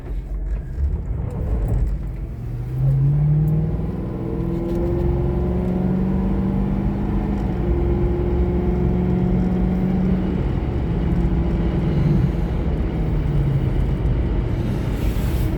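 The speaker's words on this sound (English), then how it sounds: "I'm going to be quiet here for a second and let you hear the engine run out." A 2011 Ford Crown Victoria Police Interceptor with about 108k miles runs steadily, giving a smooth, continuous engine drone with faint pitch shifts as it moves, close and alone without talking.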